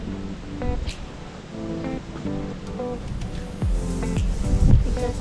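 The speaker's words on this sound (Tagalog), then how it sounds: "Ano yung dagat oh? Yan, dagat yan." Sea waves wash at Guimaras beach at sunset, a broad surf rumble swelling toward the end, with faint voices and tonal background sounds mixed in.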